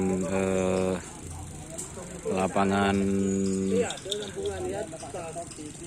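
Cattle low loudly with long, drawn-out moos, several calls in a row close by, over a busy outdoor background at a bull racing field.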